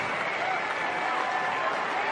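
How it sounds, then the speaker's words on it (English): A cricket crowd applauds Ellyse Perry reaching her half century, a steady wash of distant clapping and cheering under a commentator's voice. "the crowd erupts because it's also a half century"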